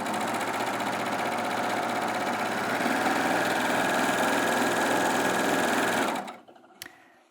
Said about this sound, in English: And then we'll sew this mid-weight denim as well.